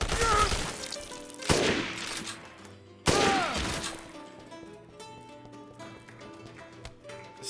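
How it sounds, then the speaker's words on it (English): Sniper rifle gunfire in the Dead Rising remake video game, with a few sharp, loud shots spaced over the clip, each followed by a ringing tail against a steady background of game music and effects. "it doesn't help that the sniper rifle does no damage"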